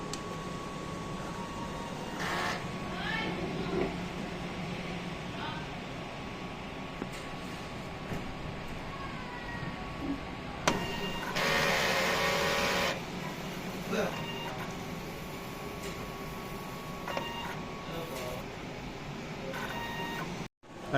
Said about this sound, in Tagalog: Ito naman po ang tama pag head clean.